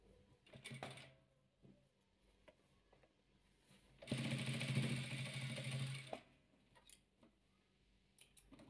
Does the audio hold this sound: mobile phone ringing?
no